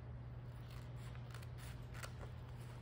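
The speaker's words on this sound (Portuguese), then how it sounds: "Pegamos a tesoura," Scissors cut through folded paper to make an origami butterfly, a quiet close series of short crisp snips over a low steady hum.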